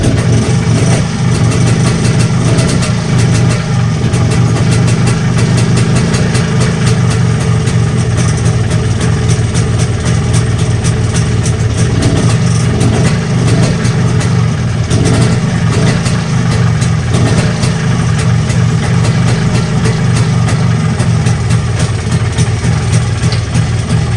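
An MZ TS125 motorcycle idles steadily with its newly fitted Mikuni carburettor, a continuous close, loud engine rumble with small fluctuations and slight revs, and no talking over it.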